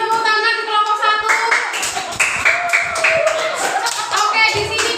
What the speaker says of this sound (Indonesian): tepuk tangan di kelompok 1